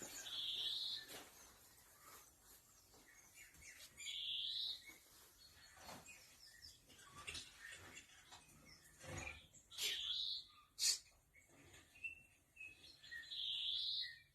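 Birdsong from a bird show playing on a TV, with repeated high chirping phrases recurring every few seconds over a quiet room, some short knocks and clicks between them.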